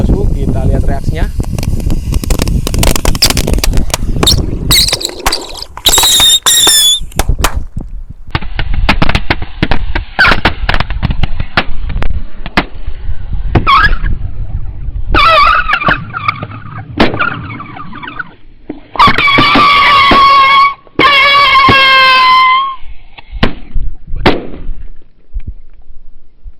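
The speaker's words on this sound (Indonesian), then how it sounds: "eksperimen menyalakan roket satu pak ya di dalam ember isi air" A one-pack of firecracker rockets lit inside a water-filled bucket gives a loud, chaotic run of pops, crackles and whistling shrieks over about 25 seconds, with bursts coming in clusters and a person speaking throughout.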